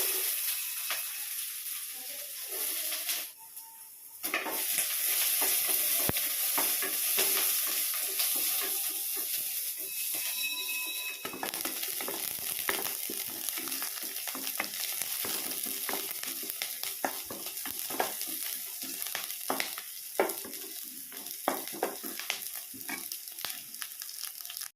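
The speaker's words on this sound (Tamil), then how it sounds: "இதோட கூட கட் பண்ணி வச்ச வெங்காயத்தை சேர்த்துக்கலாம்." Onions sizzle and crackle steadily in a hot pan, with intermittent scraping and clinking as they are stirred, close and continuous throughout.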